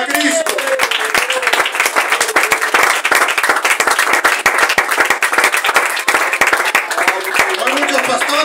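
A church congregation claps together as an offering to Christ, a loud, dense and sustained burst of hand claps filling the whole stretch, with no other sound standing out.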